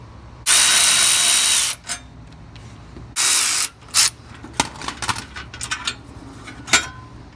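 A ratchet wrench and power tool remove 13mm and 8mm bolts from the front and rear dust guards of a Ford 2.7 EcoBoost, giving two long loud whirring bursts followed by scattered metallic clicks and clinks close by.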